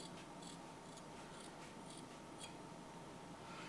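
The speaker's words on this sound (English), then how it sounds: "you'll cut the top of the sock off with" Scissors snip through the top of a discarded sock in a series of faint, quick, crisp cuts repeating at a steady rhythm over quiet room noise.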